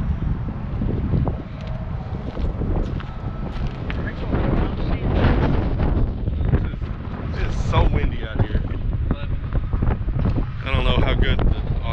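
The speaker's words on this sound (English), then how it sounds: "it is way windy" Strong outdoor wind, loud and continuous, buffeting the microphone with low rumbling gusts while people talk over it.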